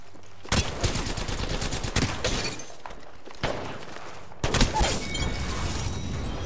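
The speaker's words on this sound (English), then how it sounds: "They spotted me. I'm taking shots." Bursts of rapid video game gunfire from Apex Legends during a late-match fight crackle in loud, dense volleys with brief pauses between them, no talk over the shooting.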